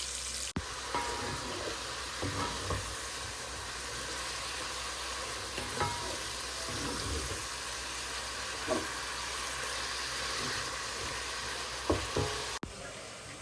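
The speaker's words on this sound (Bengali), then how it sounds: "লাউ শাক বাগার দেওয়ার জন্য এখানে পেঁয়াজ, কাঁচামরিচ, রসুন দিয়ে দিচ্ছি।" Onions, green chilies and garlic frying in oil as a tempering for bottle gourd greens, heard as a steady close sizzle throughout with occasional soft stirring clanks.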